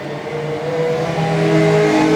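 Junior sedan race cars roar past close by during a heat, engines droning loudly and rising as the pack comes through, with no voices.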